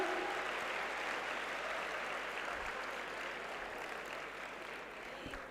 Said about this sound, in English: Give a huge round of applause for her, ladies and gentlemen.